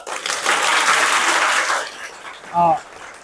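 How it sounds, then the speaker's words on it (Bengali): Schoolgirls at Malda Girls' High School clap loudly together in a dense, steady burst of applause that fades out, followed by a brief spoken voice. "জোরে হাততালি দাও"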